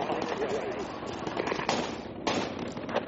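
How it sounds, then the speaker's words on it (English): Incoming gunfire in the military shooter game Squad crackles continuously through the whole stretch, with sharper bursts standing out, under faint voice chat. "Got incoming fire from north, I think."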